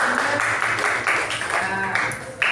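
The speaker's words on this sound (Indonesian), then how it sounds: "kasih tepuk tangan dulu untuk teman-teman" Classmates in a school classroom clap for a group of students, a dense, steady patter of many hands close by with voices chattering over it throughout.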